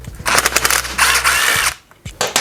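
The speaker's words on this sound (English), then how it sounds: "let's take the 8mm socket and go ahead and pull off the head" A tool drives an 8mm socket on bolts of a Honda Ruckus scooter engine head: several short, close, rattling whirring bursts over a low steady hum, each stopping abruptly.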